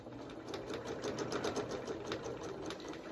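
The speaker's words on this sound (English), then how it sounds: "My sewing machine has a needle down, so as soon as I stop sewing," A Janome S5 sewing machine stitches steadily at close range, its needle tapping in a fast, even mechanical rhythm for the whole stretch with no voices over it.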